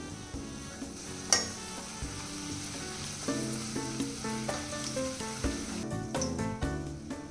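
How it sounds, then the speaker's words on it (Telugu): Bitter gourd pieces fry in hot oil over a low flame, a steady close sizzle broken by occasional clinks and scrapes of stirring, no voices. "ఆయిల్ హీట్ అయిన తర్వాత మంటను సిమ్లో ఉంచుకొని కాకరకాయ ముక్కలను కొన్ని వేసుకుంటూ లైట్ గోల్డెన్ కలర్లో వేయించుకోవాలి"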